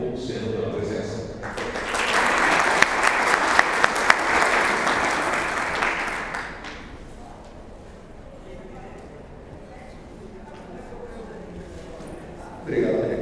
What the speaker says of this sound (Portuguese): Solicitamos então uma salva de palmas de boas-vindas ao palestrante Dr. Carlos Nepomuceno pela presença.